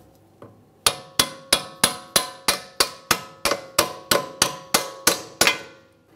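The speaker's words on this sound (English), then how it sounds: "Use a hammer to tap it through if necessary." A hammer taps a mounting bolt through the front suspension of a 2011–2021 Jeep Grand Cherokee, giving one light tap and then about fifteen sharp metallic strikes at an even, quick pace, close and clear with no talking.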